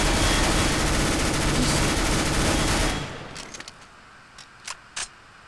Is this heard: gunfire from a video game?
yes